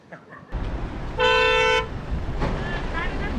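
A car horn gives one loud sustained toot lasting about half a second, over outdoor background noise, with voices chattering nearby before and after.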